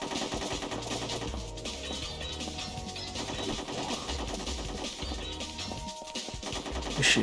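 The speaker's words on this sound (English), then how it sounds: "Who's shooting at me?" Rapid automatic gunfire in the Ghost in the Shell: Stand Alone Complex PSP game, a continuous rattling burst layered over steady music and game noise at moderate level.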